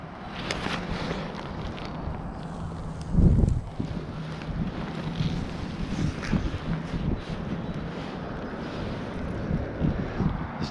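Wind gusting across the water while fishing from a boat for crappie in March, a steady rushing roar with one brief louder buffet against the microphone.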